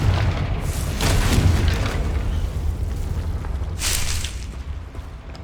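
Confringo fire spell in the Hogwarts Legacy video game, a deep booming explosive blast with rumbling burst and a second crackling impact, loud and alone with no talking.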